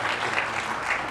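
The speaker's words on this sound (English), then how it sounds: "So let's give them a round of applause." A festival audience applauds briefly for an animation and film festival in its twelfth year, a steady dense patter of clapping hands filling a venue at moderate volume.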